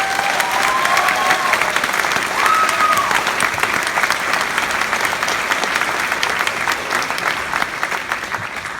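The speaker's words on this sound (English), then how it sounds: "I ask that you please give my family and everybody else here I've thanked a round of applause" Graduation audience at a charter school ceremony gives a loud, dense round of applause that fills the room, with a faint whistle or cheer near the start.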